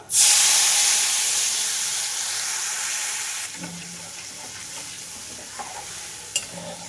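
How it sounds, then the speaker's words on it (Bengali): Fish curry broth with green chilli, turmeric, salt and tamarind in a pan for hilsa tok, opening with a loud burst of sizzling hiss that gradually settles into a softer steady bubbling simmer with occasional faint clinks. "ঝোল খুব ভালোভাবে ফুটে গেছে।"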